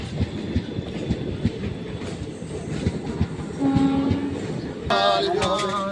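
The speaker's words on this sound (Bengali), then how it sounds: "এই ট্রেন ঢুকে গেল তেরো হাজার সতেরো" The Howrah–Azimganj Express 13017 rolls into a station with a steady rumble and rhythmic wheel clatter, followed by a loud, sustained horn blast near the end.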